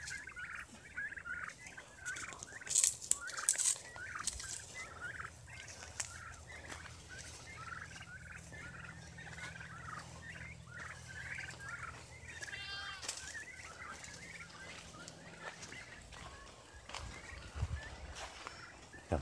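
Turkeys on a homestead gobble repeatedly in rapid, warbling bursts, fairly distant and soft, with a low steady hum and occasional clattering noises underneath.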